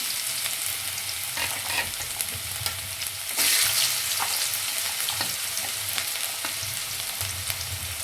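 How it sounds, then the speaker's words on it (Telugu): Green lentils and carrot pieces fry in hot oil, giving a steady close sizzle with scattered crackles and stirring scrapes, and a louder hiss bursts up midway before settling back. "ఆయిల్ వేడెక్కిన తర్వాత కొంచెం పచ్చని పప్పు వేస్తున్నాం అలాగే ముందు కట్ చేసిన క్యారెట్ ముక్కలు కూడా వేసుకున్నానండి"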